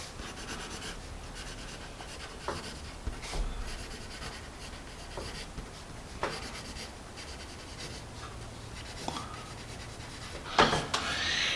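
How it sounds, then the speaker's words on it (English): A Pen and Gear Sparkle pencil writing on paper, with a continuous soft scratchy graphite rub and small strokes and taps, close and quiet, with no talking. "It's a nice writing pencil."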